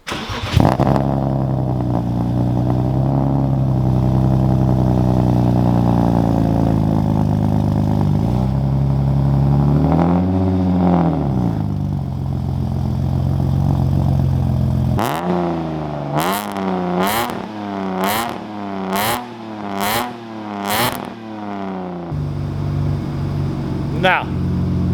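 A BMW E36 fitted with OBX headers and a new OBX exhaust revs, climbing and falling in long sweeps, then firing a rapid series of sharp blips near the end. The raspy engine note is loud and close, with a voice briefly over it.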